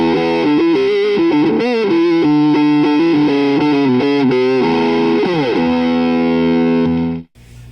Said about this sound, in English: This is the Crybaby with an OCD into an EQ.